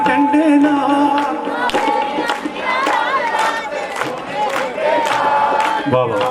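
Devotees at a Bhagwati jagran in a Shiv temple dharamshala sing together and clap with raised hands, a loud, dense crowd chorus over music that carries on steadily.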